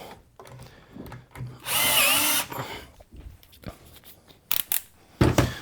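A power drill drives screws into pocket holes on a small wooden table, giving one loud sustained whirring burst, then a few short sharp bursts near the end, with quiet handling noises between.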